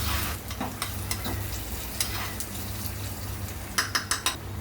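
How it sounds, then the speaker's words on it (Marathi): Kasuri methi and ginger pieces are mixed into dough with a utensil. Faint scrapes and soft knocks against the vessel build to a few sharper clinks at the end. "कसुरी मेथी आणि हे आल्याचे तुकडे घेतले आपण मिक्स करूया"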